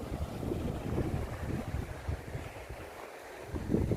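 Cool wind sweeps across the Noen Nang Phaya viewpoint in Chanthaburi, Thailand, as a steady low rumble of gusts buffeting the microphone, with no voices.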